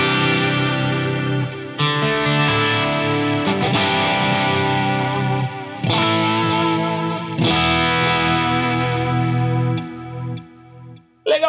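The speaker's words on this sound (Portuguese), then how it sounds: "E aí você tem um flanger com distorção na repetição" A Cuvave Cube Baby pedal runs tape delay with flanger, sounding as sustained distorted guitar notes whose repeats swirl and sweep, played in loud phrases with brief breaks before a quick fade near the end.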